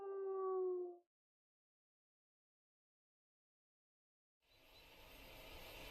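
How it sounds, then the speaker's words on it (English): Golf the wolf in Fantasian Neo Dimension lets out one short, high, steady howl lasting about a second, followed by silence and then a soft, broad wash of ambient noise. "In response, Golf howled, high and with determination."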